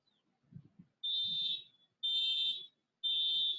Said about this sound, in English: That car is beeping